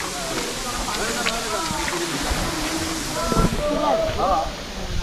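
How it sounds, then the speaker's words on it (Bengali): Heavy water rushing down Sohosrodhara waterfall after recent rain makes a steady, loud broadband roar that continues unbroken throughout, with faint voices in the background. "ঝর্ণার শব্দ কিন্তু শোনা যাচ্ছে"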